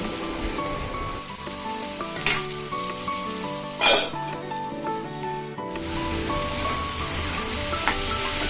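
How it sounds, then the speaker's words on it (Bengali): Taro pieces fry in a pan with salt and turmeric, a loud close sizzle running throughout while a spatula scrapes and stirs, with a couple of sharper scrapes and clinks along the way. "এবার ভালো করে নাড়াচাড়া করে ভেজে তুলে নেব।"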